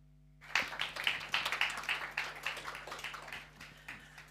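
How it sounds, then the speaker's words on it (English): Audience applause welcoming a speaker at a mosque open-day event: clapping starts abruptly after a quiet moment, peaks quickly, then gradually thins out over several seconds, a modest crowd heard from a moderate distance. "Please welcome him with a round of applause."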